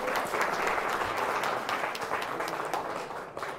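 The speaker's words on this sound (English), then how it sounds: "Give him one more hand clap." Steady applause from a church congregation fills the space, many hands clapping together at moderate distance, tapering slightly at the close.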